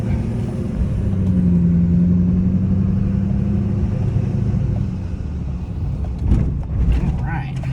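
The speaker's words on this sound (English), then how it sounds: "tell me a Duramax doesn't just sound so good" Duramax diesel engine of a 2011-2014 GMC Sierra or Chevrolet Silverado HD pickup rumbling steadily as the truck drives, a constant low drone with a brief louder surge near the end.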